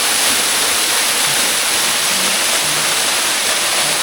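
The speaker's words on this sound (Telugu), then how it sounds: "మా ఊరు వాటర్ ఫాల్స్ అయితే వచ్చాను." Small waterfall near a village, a loud, close, unbroken rush of falling water that fills the whole scene with steady broadband roar.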